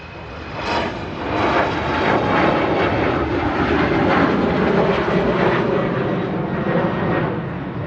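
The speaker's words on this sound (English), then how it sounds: "There goes the beautiful Scandinavian Embraer heading back home." A Scandinavian Embraer airliner departs Manchester Airport with a loud, steady jet roar that builds in the first second and then holds a broad, rumbling level throughout.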